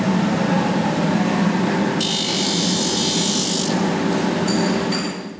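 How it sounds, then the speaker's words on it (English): A sanding disc grinds against the bottom of a shoe on a mass-production line in a Chinese shoe factory, a steady whirring hiss with a brighter scraping burst in the middle, amid constant factory hum. "A sand disc is used just so you don't have any little fluffy threads on the bottom of the shoe."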